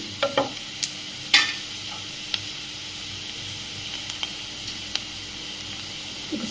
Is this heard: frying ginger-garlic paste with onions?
yes